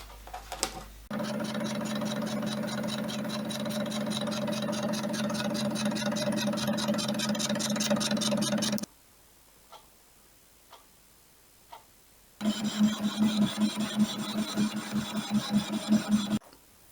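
A lathe turns down the end of an old mild steel bar, making a steady loud mechanical whir with rapid rhythmic ticking. It stops for a few seconds of near quiet with faint clicks, then starts again.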